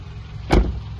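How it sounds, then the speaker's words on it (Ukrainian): A single brief motor whir from a 2014 Mitsubishi Outlander's power window, close and fairly loud, rising and fading in about a second against quiet cabin background. "Повний електросклопакет"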